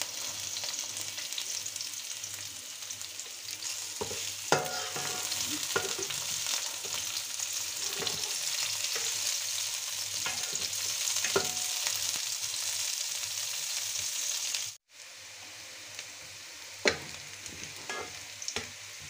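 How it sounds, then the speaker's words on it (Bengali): Onions and whole cumin fry in oil in a pan for a bitter gourd curry, a steady close sizzle with occasional stirring clinks, a brief drop out near the end. "পেঁয়াজ অলমোস্ট ভাজা হয়ে গিয়েছে।"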